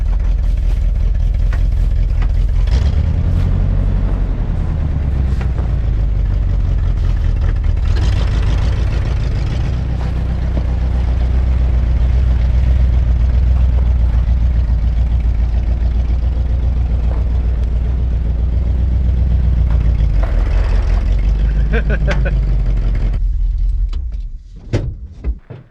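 An old GMC truck engine, abandoned for 30 years, runs steadily through a test drive, a loud continuous low rumble that rises and falls with throttle before cutting out near the end.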